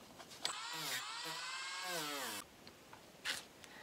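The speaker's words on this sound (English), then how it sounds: "I'm going to kind of Dremel out a little V shape down here." A Dremel rotary tool carves a small V shape into craft foam, its motor whine rising and falling in pitch through a continuous burst of about two seconds, followed by quieter handling noises.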